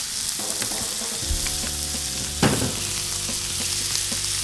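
A steak sears in a hot pan with butter, a loud, dense, continuous sizzle up close with a few brief stirring knocks.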